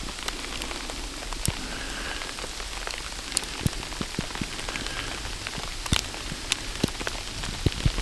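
Sleet and ice pellets fall steadily onto a snowpack piled about seven inches deep on stacked wood during a late January snowstorm, a constant fine patter broken by scattered sharper ticks of nearby hits.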